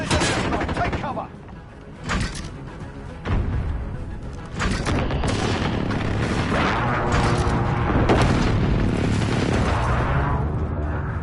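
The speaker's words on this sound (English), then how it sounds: "Enemy precision airstrike. Take cover." Precision airstrike explosions in a PS4 first-person shooter burst in loud, repeated booms and rumbling blasts over gunfire and game noise, with a voice speaking now and then.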